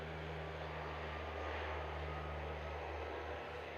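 A Dash 8 propeller airplane takes off at Christchurch International Airport, its engines producing a steady, distant droning roar with a low tonal hum that holds constant throughout.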